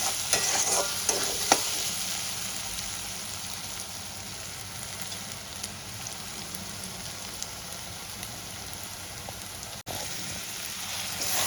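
Onions fry in a pan with a dense, steady sizzle and crackle, a few sharp pops and spatula clicks early on, continuing close and unbroken with no voices.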